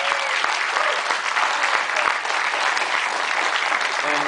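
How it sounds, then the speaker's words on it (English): Audience applause fills a film screening introduction at a noir festival, a dense, steady wash of clapping from a large crowd that holds at full strength throughout without letting up. "Give him a big round of applause, Eddie Muller."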